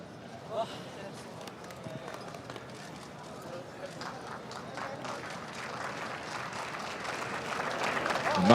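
Crowd at an evening horse race meeting applauds the winning jockey after a Group 2 race, a broad steady wash of clapping and cheering that swells louder toward the end, with an announcer talking over it.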